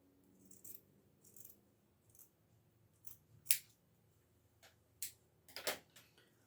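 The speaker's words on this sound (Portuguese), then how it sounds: "Agora sim, eu vou cortar neste risco, porque aí eu tenho a minha margem de costura." Scissors cutting fabric along a marked line for a kitchen paper towel holder, heard as sparse, quiet snips and clicks spaced irregularly over a near-silent background.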